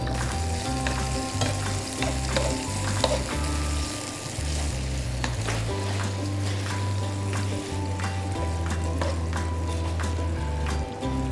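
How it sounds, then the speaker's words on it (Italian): Busiate pasta ingredients with mackerel sauté together in a pan. There is a loud, continuous sizzle with frequent crackles and a low droning hum underneath, close and steady throughout. "Facciamo rosolare insieme tutti gli ingredienti."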